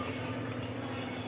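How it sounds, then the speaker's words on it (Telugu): A short, steady wash of water being poured into a pot of cooking mutton curry, a soft continuous splashing close by. "కొద్దిగా నీళ్ళు పోసాను."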